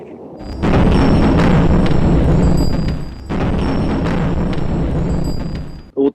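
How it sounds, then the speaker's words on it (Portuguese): A loud, sustained blast of rumbling explosion noise in wartime Ukraine cuts in abruptly, pauses briefly, then roars on again before dropping away at the end. "Outra explosão agora com rajada de tiros também."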